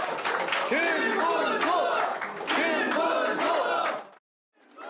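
A large outdoor crowd at a Korean local election campaign rally cheers, chants and claps loudly in two sustained surges, then stops abruptly before fading back in.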